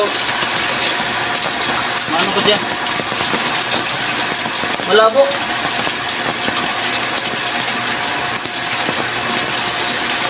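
A surface deepwell water pump runs steadily with water gushing out, a continuous rushing drone under intermittent talk, with a couple of brief rising whine-like sounds partway through.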